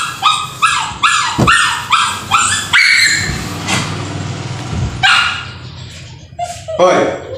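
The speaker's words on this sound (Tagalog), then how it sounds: "Pisting aso na ito ay. Yan ingay." A dog barks loudly and repeatedly in a home kitchen where Spanish bread is being made by hand, a fast run of sharp barks followed by scattered yips and barks, with a voice scolding over it.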